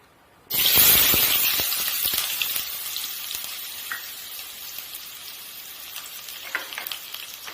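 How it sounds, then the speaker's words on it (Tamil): Finely chopped onions hit hot oil in a kadai for an egg pepper fry. A loud sizzle bursts in suddenly, then settles into a steady, close hiss with light stirring clicks. "ஆயில் ஹீட் ஆனதும் ரொம்ப பொடியா சாப் பண்ணி வச்சிருக்க வெங்காயம் இதில் ஆட் பண்ணிக்கிறேன்"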